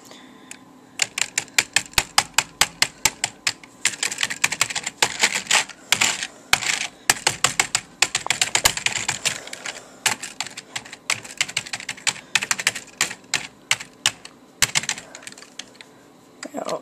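Rapid typing on a computer keyboard while searching online, dense bursts of close, crisp key clicks with brief pauses, steady throughout with faint background hum.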